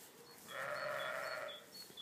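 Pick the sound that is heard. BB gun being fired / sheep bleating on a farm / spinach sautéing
sheep bleating on a farm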